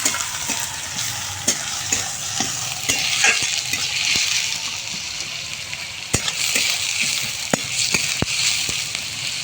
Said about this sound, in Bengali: তো চলো চিকেনের পেঁয়াজটা একটু হালকা লাল করে ভেজে নিই।